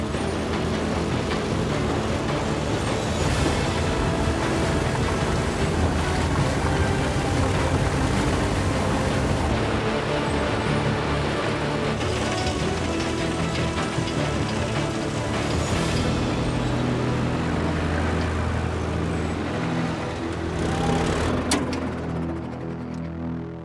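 A dry blower machine working gold-bearing dirt in the Australian outback, a loud, steady mechanical roar and rumble of engine and air with rattling material, continuous and dense throughout with no voices.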